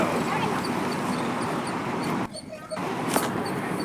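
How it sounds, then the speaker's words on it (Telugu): Puppies yip and bark in short, high bursts over a constant background hiss, several sharp yelps scattered through the clip, in a village. "పక్కన చిన్న చిన్న కుక్క పిల్లల్ని అయితే చూపిస్తున్నారు"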